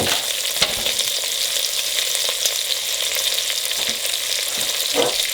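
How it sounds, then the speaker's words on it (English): Celery and carrots hiss and crackle steadily in a pan with browning onions for wine-braised oxtails, a close, constant sizzle broken by occasional soft knocks of stirring, with no voices. "So at this point I'm going to add our celery and our carrots in there."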